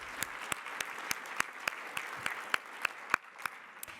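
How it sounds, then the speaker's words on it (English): Sparse clapping at a Variety Power of Women event in Los Angeles, a dozen or so sharp, evenly spaced claps at a moderate level against a quiet background, sounding like only a few hands applauding. "Let's give a hand of applause for that."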